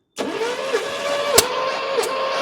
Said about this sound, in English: All right, go ahead and crank.